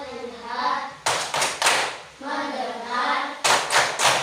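A classroom of children claps in a patterned chant to focus before a lesson, with two sharp bursts of rhythmic group clapping, three quick claps each, alternating with children's chanting voices.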